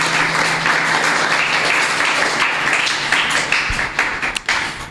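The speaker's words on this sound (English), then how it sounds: "Let's give them a round of applause." An audience at a primary schools football tournament awards ceremony applauds the placed school teams: loud, sustained crowd clapping with a few sharper claps as it begins to taper near the end.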